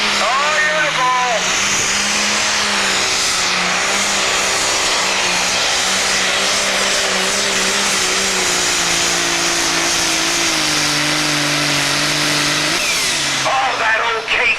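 Old Case pulling tractor running a single turbocharger at a Super/Pro tractor pull, a loud sustained engine roar with a gliding pitch that holds steady for many seconds before cutting off near the end, with a commentator talking over it.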